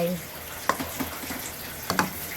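Pork belly stir-frying in a pan for an old-style Thai ginger stir-fry, a soft steady sizzle with a few sharp spatula scrapes and clacks at irregular intervals, close and moderately quiet, with no talking.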